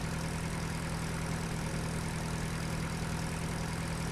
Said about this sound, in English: the engine's powerful enough just to keep on going